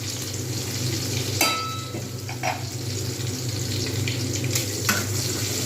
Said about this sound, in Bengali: পেঁয়াজগুলো কিন্তু ভালো করে একটু ভেজে নেবো